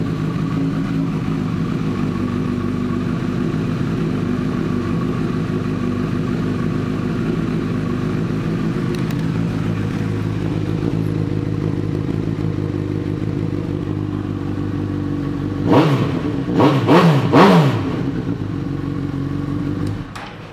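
A used 2012 Honda CB1000R motorcycle idles steadily at close range, then revs sharply several times in quick succession near the end before settling back.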